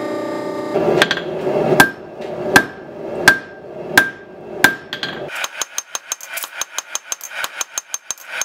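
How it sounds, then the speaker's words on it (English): A blacksmith's hammer strikes steel on an anvil about once every second, each blow a loud ringing clang. The hammering then breaks into a fast run of lighter taps as a motor hums underneath. "I'm going to do the small one with a hammer"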